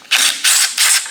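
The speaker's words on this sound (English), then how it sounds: "We're just going to take the bolts out." A ratchet wrench backing bolts out of a torque converter on a locked-up engine, three quick close, loud bursts of rasping clicks in succession.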